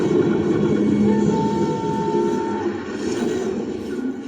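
Steady rumbling train noise with a faint tonal whine, continuous and fairly loud throughout.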